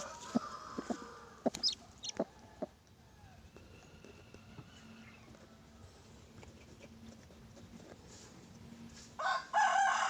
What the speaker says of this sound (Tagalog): meron ng isang sisiw dito na napipisa